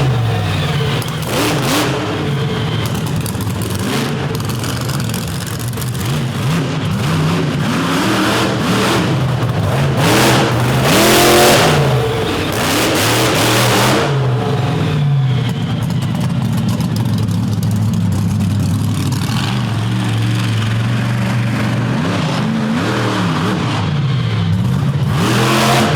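Overdrive monster truck engine roaring and revving hard through high-speed donuts at the 2023 Battle at Butler event, a loud continuous throaty rumble with surging rev swells and heavy crowd-arena ambience throughout.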